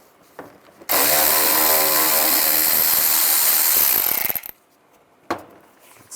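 A power tool with a T20 socket backs out grille screws on a 2010-2017 Chevy Equinox, a loud continuous whir lasting about three and a half seconds, followed by a quieter short burst near the end.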